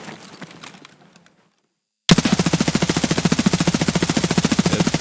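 A rapid, loud burst of automatic fire from an HK rifle in Escape from Tarkov, steady evenly spaced shots for several seconds after a brief near-silent gap.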